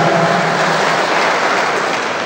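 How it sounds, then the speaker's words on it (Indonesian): An audience at a Pemuda Batak Bersatu inauguration ceremony in Toba gives loud, dense, continuous applause from start to finish with no talk over it. "Berikan tepuk tangan untuk Ibu Anita Siahaan."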